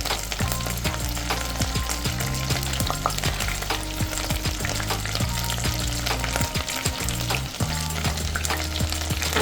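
Star anise, cardamom and dry chili fry loudly in hot oil for chicken soup and rice, with a dense continuous sizzle broken by repeated scraping stirs and clinks of the utensil, and no voices.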